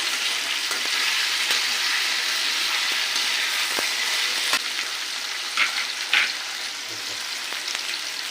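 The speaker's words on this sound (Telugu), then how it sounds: "ఇవి ఒక 5 నిమిషాలు ఇలానే కలుపుతూ వేయించుకోవాలి బాగా." Food stir-fried in a pan gives a steady, close sizzle and hiss throughout, with occasional scrapes and clinks from stirring.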